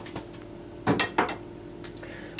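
A utensil scrapes and clinks against a bowl while a mosaic cake mixture is stirred, giving a few sharp knocks and light taps close by over a quiet background.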